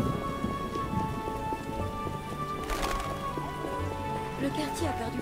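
Steady rain falls in The Witcher, a dense constant patter with a low rumble of distant thunder, while a voice speaks over it.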